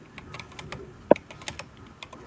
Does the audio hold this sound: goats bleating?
no